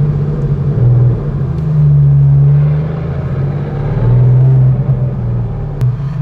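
Porsche 911 RWB widebody with racing cams idling roughly, a loud, steady low rumble that swells and dips unevenly as the engine hunts, close by with no talk.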